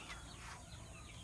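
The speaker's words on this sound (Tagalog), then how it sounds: "Manok na 5 ang paa." A Silkie crossed with Rhode Island Red chicken clucks briefly, a short close call over a low rumble of background noise.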